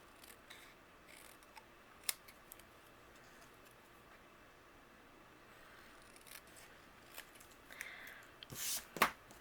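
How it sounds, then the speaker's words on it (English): Quiet, occasional snips of scissors cutting paper, with a louder, longer cutting stroke near the end. "I'm going to use my scissors and I'm going to trim it into 2 different pieces."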